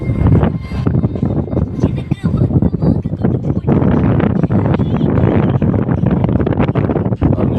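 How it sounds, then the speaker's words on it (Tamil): Heavy wind buffeting a microphone, loud rumbling gusts that roar and drop continuously, with a voice partly buried underneath. "காற்று சரியான காற்று, பேசுறது கூட சரியாக கேட்க மாட்டேங்குது"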